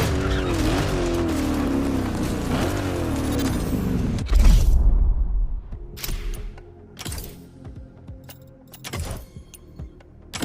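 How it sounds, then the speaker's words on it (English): In The Crew Motorfest, a car with a big block engine races and drifts through a gymkhana course. A loud revving engine gives way to a hard impact, then sharp bursts of tire squeal and engine roar with brief quieter gaps between. "They're both powered by the same big block engine."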